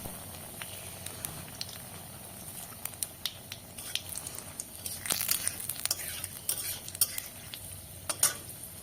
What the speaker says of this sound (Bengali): নতুন করে সর্ষের তেল দিলাম, তারপরে কালো জিরে দিলাম, দুটো শুকনো লঙ্কা ফোড়নে দিয়ে দিলাম